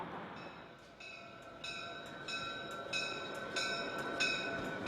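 Trains rumble through the Chicago rail hub with a broad, steady roar that slowly grows louder, while high metallic squeals and tones come in repeatedly, like wheels screeching on the rails.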